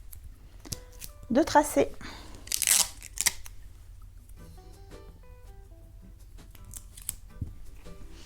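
Scissors cutting a paper sewing pattern along its traced lines for an easy top, with short crisp snips and paper rustles close by, mostly in a few quick bursts, and someone speaking briefly.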